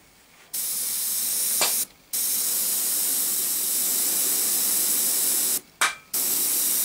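An airbrush set to 1.5 bar sprays Revell Aqua Color matte acrylic varnish as a loud, close, steady hiss, broken by two short pauses and a double release of the trigger.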